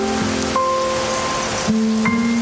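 Steady hissing rain in the video game Tower of Fantasy fills the background beneath simple sustained electronic tones that shift pitch a few times.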